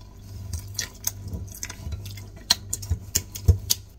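Grated cassava, sugar and coconut milk being stirred together into a batter, giving soft wet squelches and irregular drippy clicks close by, with no voices.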